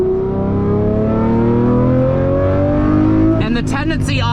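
A Lamborghini Murcielago SV's engine drones steadily under load while driving, its pitch slowly climbing, then snaps into a sharp, crackling rev burst near the end. A voice speaks over it.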